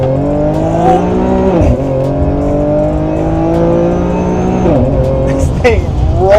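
A tuned Infiniti Q50 making over 600 wheel horsepower drops a gear and accelerates hard. Its engine note climbs steadily and loudly, dips briefly at each shift, then rises again. Tire noise is faint in the background.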